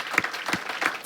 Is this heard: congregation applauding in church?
yes